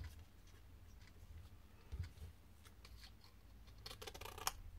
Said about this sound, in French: je vais prendre mon ciseau et je coupe